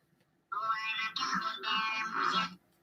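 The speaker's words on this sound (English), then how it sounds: "Raven's got interesting ringtones and alarms on my phone" A novelty ringtone on a mobile phone plays a bright, harmonic melodic phrase for about two seconds, clear and fairly close, with no talking over it.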